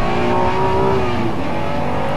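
Honda NSX with a V6 VTEC engine, racing car driven hard, a loud close engine rev with a rising then sustained tone and tire noise, heard alone without talk.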